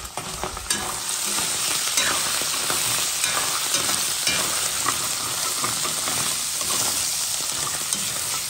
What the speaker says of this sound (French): La morue est en train de frire.